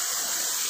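River water rushes and hisses at Sahastradhara near Dehradun, a constant broadband wash with no pauses and no voices.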